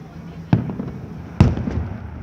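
Fireworks exploding outdoors near a road: two sharp, loud booms about a second apart, each followed by brief crackling rumble that fades away.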